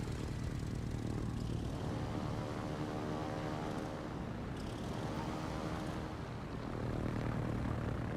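Propeller-driven plane engine in a PC combat flight game, a continuous droning hum with steady harmonic tones, shifting slightly in pitch midway, fairly quiet and uninterrupted, with no speech.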